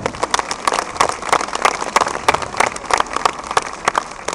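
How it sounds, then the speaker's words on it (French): An audience at a firefighters' dog-handling demonstration in Aulnay-sous-Bois breaks into steady applause, a dense patter of hand claps lasting throughout at moderate distance. "je vous demande d'applaudir Guillaume et Fenzo"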